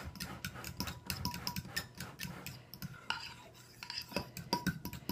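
A fork stirs cocktail sauce for shrimp in a bowl, giving rapid, irregular clinks and scrapes against the dish that continue steadily, close and soft, with no talking.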